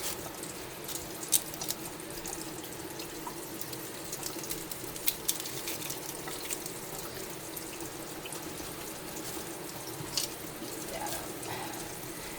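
Knife and small onion rinsed under a running kitchen tap, a steady broadband stream of water splashing into the sink with a few sharper clinks and drips, close and continuous.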